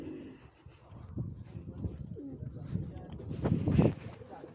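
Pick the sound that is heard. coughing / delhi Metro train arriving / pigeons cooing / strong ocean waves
pigeons cooing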